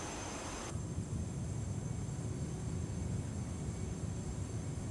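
A steady airplane engine drones in Microsoft Flight Simulator near Burbank Airport, a constant loud hum that shifts slightly early on and then holds evenly, with no voices.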